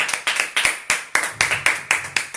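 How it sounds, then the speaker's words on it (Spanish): Church congregation clapping in worship, a series of sharp, evenly spaced rhythmic claps, loud and close, with no talking over them. "Dale un aplauso al Señor."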